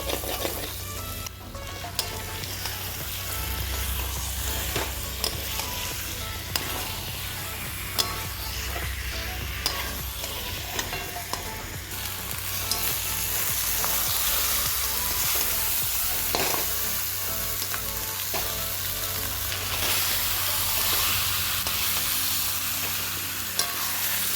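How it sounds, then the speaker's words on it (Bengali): Country chicken and onions sizzle in hot oil in a pan, a continuous loud frying hiss broken by intermittent scraping as the mixture is stirred. "পেঁয়াজটা কষে গেছে, তেল ছেড়ে দিয়েছে। এবারে এর মধ্যে মাংসটা দিয়ে দেবো।"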